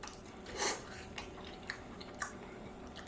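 Crunchy bites into a fried empanada with a thin, not very flaky dough, giving a few sharp crackling crunches and softer chewing sounds, close up with no talking.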